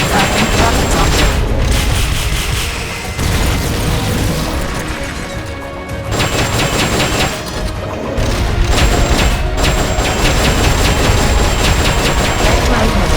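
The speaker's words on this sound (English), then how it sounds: "Firing rocket launcher." A rocket launcher fires in the Metal Gear Solid: Peace Walker game on PS3, with loud booming blasts and heavy rumbling bursts repeating over a dense, continuous wash of game noise and music.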